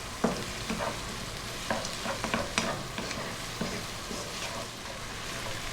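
Chillies sizzling over lively heat in a wok, a steady hiss of frying with a few sharp clacks and scrapes of stirring, close and moderately loud, with no voices.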